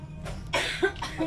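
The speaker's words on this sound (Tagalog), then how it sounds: "Ubo." A person coughs three times in quick succession, close and fairly loud, each cough sharp and breathy, while inside a Mr. DIY store at Ayala Mall.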